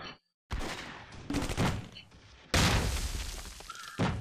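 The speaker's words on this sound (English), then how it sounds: "Thomas is shooting. This is MP40." MP40 submachine gun fire in the video game Close Combat: Cross of Iron comes in loud, rapid bursts with booming impacts and breaks between them, up close.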